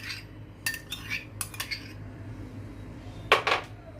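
A spoon clinks against a bowl while stirring semolina into sour yogurt: scattered light metallic taps and scrapes, a few close together, then a sharper pair near the end, fairly quiet and with no voices.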